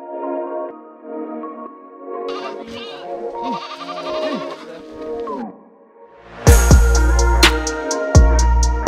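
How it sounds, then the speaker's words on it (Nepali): Goats herded along a hillside track in Parbat, Nepal, bleat several times in wavering calls close by, followed by a sudden louder, harsher burst of noise near the end. "अगाडि बाख्रा छेल्दैछु"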